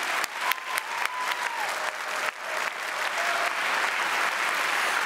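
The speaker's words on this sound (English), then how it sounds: "everyone slap their hands together, make a clapping noise and thank them" Enthusiastic applause from a sizable audience at an awards ceremony, starting with a few sharp claps and swelling into steady, sustained clapping.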